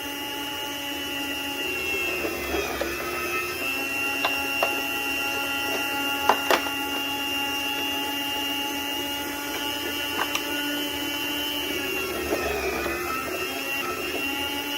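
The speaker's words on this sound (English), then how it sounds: "put some pressure on it and just slide it against the blade. And you can see it just cutting there real nice." An electric deli meat slicer cuts meat into even jerky strips, its motor holding a steady whirring hum with harmonic whine, marked by occasional sharp clicks and light scraping as the meat slides against the blade.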